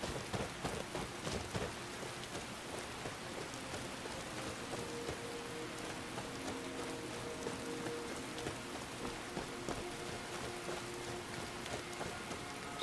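Steady rain pours in Skyrim at night, a dense, even hiss of drops on surfaces that stays constant throughout with faint rumbles beneath, no voices present.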